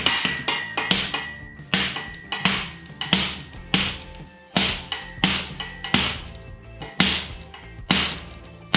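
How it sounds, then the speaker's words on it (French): Small wooden block tapping a bicycle part on a workbench in place of a mallet, a steady series of about fifteen sharp, close knocks spaced roughly half a second apart, with no talk. "S'il n'y a pas de maillet, petite cale en bois."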